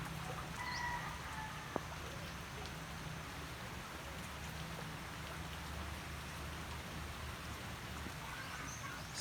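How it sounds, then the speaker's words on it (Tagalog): Steady heavy rain pours without pause, a dense continuous hiss of drops on surfaces, with faint bird calls in the distance. "dahil sa walang tigil na pag-ulan, 3 araw kaya nagbaha"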